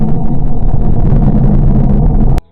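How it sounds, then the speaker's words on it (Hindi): Sonified rendering of the planet Mercury: a dense, loud, continuous low rumble with a rough, churning texture, holding steady before cutting off abruptly near the end. "उसके बाद है मरकरी, इसकी सबसे डरावनी आवाज है।"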